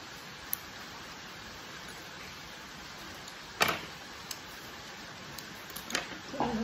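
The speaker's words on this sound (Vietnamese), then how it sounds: "Trời mưa, mưa quá cả nhà ơi." Rain falls in a steady, even hiss throughout, with a few faint knocks and taps near the end.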